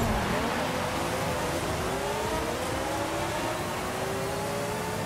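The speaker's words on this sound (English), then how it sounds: "Now I'm going to do the actual drag race itself." A Forza Horizon 5 drag race against a Corvette and a couple of Jaguars: loud, continuous engine roar with revs climbing steadily, the tones of several cars layered close together.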